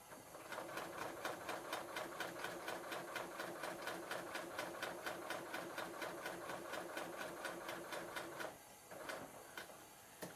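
A serger sewing machine stitches through fabric with a steady, fast rhythmic chugging of regular mechanical beats, close and even, that briefly slows and then resumes near the end.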